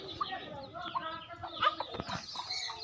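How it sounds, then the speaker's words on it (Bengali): Chickens cluck and squawk close by in short, irregular bursts, with soft voices and outdoor activity in the background. "এই যে দেখেন মুরগিরে ধরতে যেতেছে"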